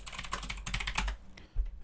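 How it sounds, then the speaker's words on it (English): Rapid typing on a loud mechanical computer keyboard, close and clattering in dense bursts of keystrokes, with a heavier thump near the end. "so you hear my loud keyboard. It's this dumb mechanical keyboard that I bought before COVID"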